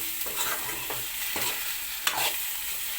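Crushed garlic frying in a pan with potatoes and okra gives a steady hiss, cut by a few short scraping stirs and one sharper clatter near the end, with no voices.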